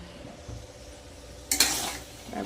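Potatoes, pointed gourd and cauliflower being sautéed with spices and a splash of spice-rinsing water in a pan: a quiet low stir at first, then a short burst of bright sizzling and scraping midway before it settles.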